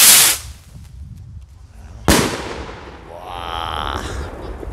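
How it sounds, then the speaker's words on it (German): Star rocket fireworks on New Year's Eve 2022: a loud burst fading away, then a sharp, booming explosion followed by crackling sparkle and a lingering tail, close and powerful. "Das war, glaube ich, eine Sternrakete"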